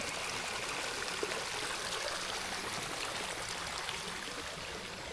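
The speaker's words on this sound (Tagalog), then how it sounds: "Sa gitna na ng daan dumadalo yung tubig." Rainwater streams down the middle of a road in a steady, broad rushing flow, continuous and fairly quiet, with faint gurgles and no voices.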